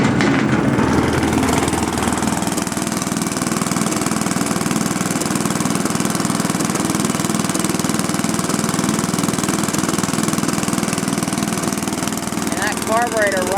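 A Tarco sander's engine runs after a cold start, a loud, steady, rough mechanical chugging with knocking and rattling that continues without pause throughout.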